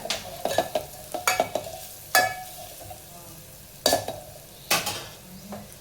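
Red chili powder and bukka spice are stirred into hot oil for a mixed-dal drumstick amti, with a soft background sizzle broken by sharp, intermittent clinks and scrapes of a spoon against the pot.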